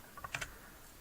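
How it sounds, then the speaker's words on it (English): A few quick, faint taps on a computer keyboard, a short cluster of soft clicks in an otherwise quiet room. "click on the window and just start typing Word or Excel"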